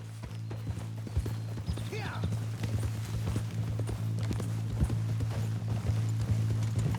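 Horse hooves clip-clop at a steady trotting rhythm in Red Dead Redemption 2, close and clear over a constant low hum, with a brief voice heard partway through.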